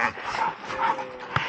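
A dog gives a soft, thin whimper on a backpacking trail, brief and close, over steady outdoor noise with a faint rustle near the end.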